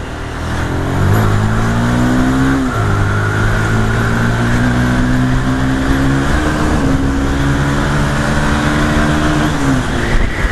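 A truck rolls along the road with a loud, close engine drone whose pitch climbs and shifts as it moves past, steady throughout without speech.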